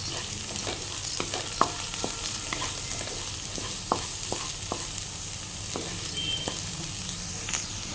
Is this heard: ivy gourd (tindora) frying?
yes